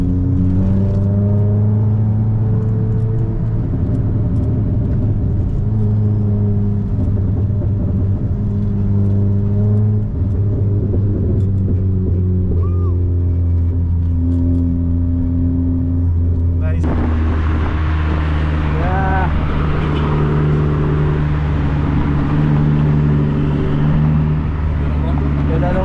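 A Mitsubishi Lancer EX car engine drones at a steady, loud idle, then revs up sharply partway through and holds a higher, rougher roar with audible exhaust. Faint talk sits underneath.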